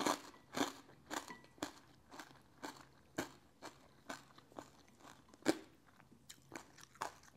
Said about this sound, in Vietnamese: Cái da nó giòn rụm luôn á